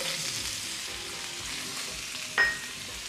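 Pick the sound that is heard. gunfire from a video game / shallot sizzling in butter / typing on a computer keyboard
shallot sizzling in butter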